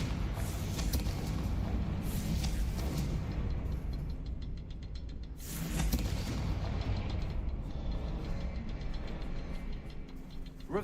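Booming blasts of the Confringo spell in Hogwarts Legacy, two broad rumbling explosions a few seconds apart over a dense, noisy game background, no talking.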